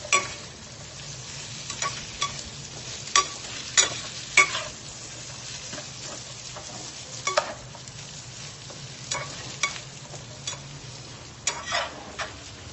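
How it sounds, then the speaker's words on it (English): Baguio beans are stirred in a pan for sautéed pancit bihon, with sharp utensil clinks and scrapes at irregular intervals over a quiet, steady sizzle, and no talking. "So, we're stirring that together here."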